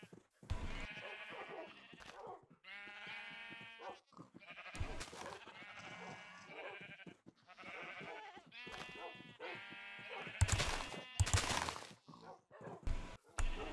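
Rainbow sheep in a video game letting out a series of bleats, several wavering cries of varying pitch separated by short pauses, fairly close and clear, with occasional sharp bursts between them.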